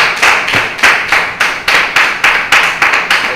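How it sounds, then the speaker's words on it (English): Applause from a mosque congregation, heard as a brisk run of rhythmic hand claps, loud and close with no talk over it. "Let's give a round of applause for the believers being in motion and doing the Lord's will."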